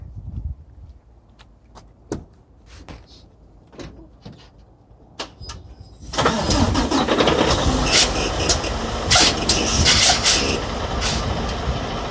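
A truck engine turns over and catches after several scattered clicks and thumps, then settles into a loud, steady running rumble that fills the rest of the clip.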